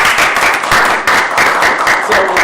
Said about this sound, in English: ask us to give her a little round of applause